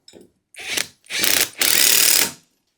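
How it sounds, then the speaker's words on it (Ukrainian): Ratchet handle clicking as it drives four screws on the gearbox of a walk-behind tractor mower attachment: three close, loud bursts of rapid pawl clicks, each longer than the last, with no talk. "Наживляємо знову 4 гвинта та можна фіксувати."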